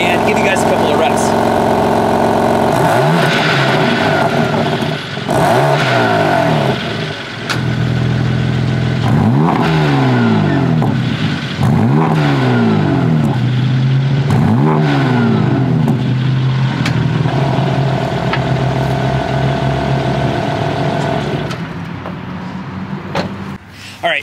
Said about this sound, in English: I'm going to open up the exhaust valve and give you guys a couple of reps